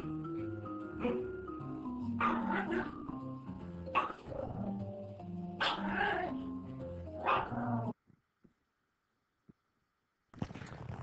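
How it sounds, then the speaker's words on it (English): Several dogs bark and yip in loud, overlapping bursts from a played recording, followed by near silence with a few faint clicks and a final short burst. "So here is a video of dogs."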